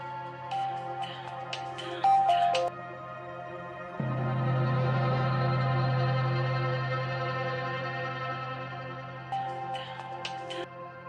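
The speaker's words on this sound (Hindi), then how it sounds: "Pick up the phone जहारा, pick up the phone." A phone ringtone plays a looping electronic melody, loud and close, over a steady low hum, with a stretch of sustained tone in the middle.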